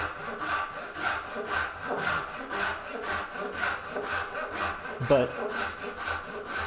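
Hand saw cutting wood for dovetails held in a Moxon vise, making even, rhythmic rasping strokes at a steady pace, close up and moderately loud, with one short word spoken near the end.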